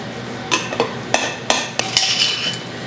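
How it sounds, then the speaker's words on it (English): Home canned white potatoes are mashed in a pot, a close series of sharp metallic clinks and thuds from the masher striking the pot in an irregular rhythm, with no voices. "A bit more mashing."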